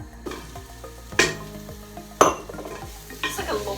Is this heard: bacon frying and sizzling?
yes